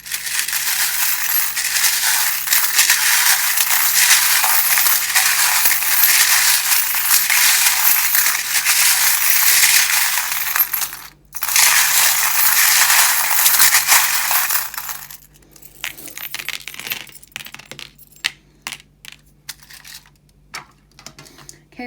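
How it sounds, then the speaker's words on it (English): Metal charms shuffled by hand for a tarot and charms reading, a loud, dense jingling and rattling that runs continuously, breaks briefly, then thins into scattered clinks and taps. "the charms can be a little bit loud when I shuffle them"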